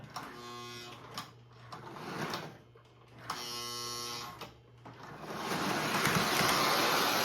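Old Lionel C&O GP7 2365 toy diesel locomotive, freshly cleaned of old oil and grease, whirs with a steady electric motor hum in two bursts separated by a pause, then a longer, louder, rougher run at the end.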